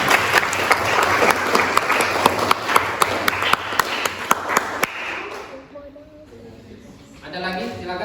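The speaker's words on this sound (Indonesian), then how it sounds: "Tepuk tangan dulu buat Ezi." A classroom applauds a student, a burst of many hands clapping for about five seconds with sharp louder claps on top, then fading into quieter room sound and faint voices.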